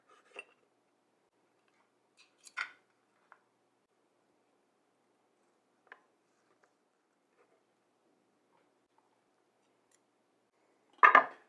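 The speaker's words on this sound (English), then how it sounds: "I'm going to go ahead and cut 2 bone chops here" A knife slices a slow-roasted, medium-rare rack of lamb into two-bone chops, giving a few soft, scattered taps and clicks across near silence, then a louder burst of cutting and scraping against the board at the end.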